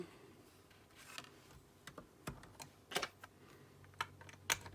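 A Pocket Punch Board slicing through paper gives a series of sharp, close clicks and snaps, spaced irregularly over a faint background.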